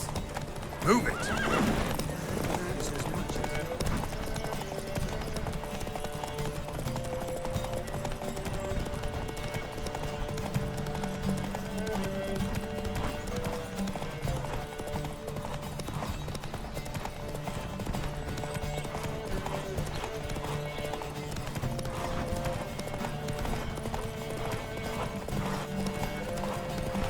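Horses galloping in a race in The Witcher 3: Wild Hunt, a steady rapid drumming of hooves with a whinny near the start, joined by game music and faint voices throughout.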